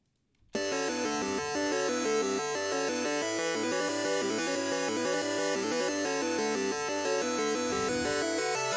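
After a brief silence, a synthesized remix of the Pokémon Red/Blue/Yellow trainer battle theme starts abruptly: melody and MIDI chords over a bouncing bass, no percussion, steady and loud.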